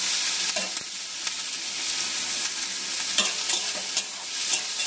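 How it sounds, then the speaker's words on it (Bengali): Chopped onion, capsicum and green chilli fry in a pan while a spatula stirs them. There is a continuous close sizzle, broken by scraping taps of the stirring every second or so, with no voices. "এবার একটু ভেজে নেবো লাল লাল করে।"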